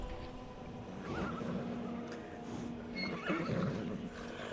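A horse whinnies in the VR game Skyrim, a rough neighing cry rising twice over a steady bed of ambient game noise, fairly close and moderately loud.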